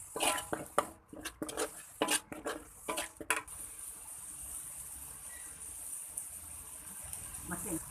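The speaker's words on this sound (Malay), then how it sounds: "Gaul rata dan bagi sebati dulu" Sambal with honey and salt stirred in a wok, a run of close metallic scrapes and clinks of a spatula against the pan, then a steady low sizzle with quieter clatter.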